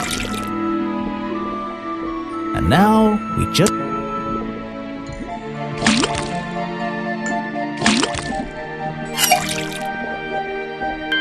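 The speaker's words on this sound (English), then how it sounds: "First thing we do is then tap the faucet." Drips from a faucet in the video game Detective Grimoire sound as several distinct, sharp liquid plinks spaced a second or two apart, heard over a soft music bed while someone talks.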